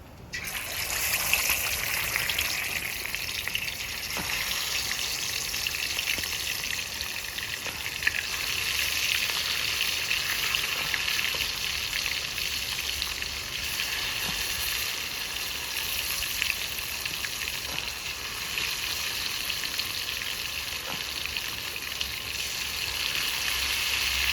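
Silver fish sizzle in hot oil in a village kitchen, a loud, steady, hissing fry that runs unbroken for over twenty seconds with faint crackles and no talking.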